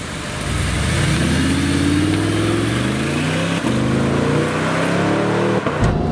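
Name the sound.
Audi R8 4.2 liter V8 engine, car driving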